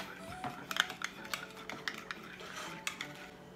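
Homemade sauce for garlic prawn spring rolls being stirred in a bowl, light irregular clinks and scrapes of a utensil against the dish, quiet and close with no talk.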